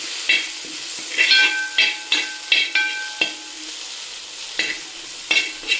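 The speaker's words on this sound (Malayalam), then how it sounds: "ഇനി നന്നായിട്ട് ഇളക്കി കൊടുക്കാം" Curry with curry leaves and coriander is stirred in a pan, with a run of sharp, rhythmic scrapes and clinks of a spoon over a soft sizzle, close and fairly loud, and no voices.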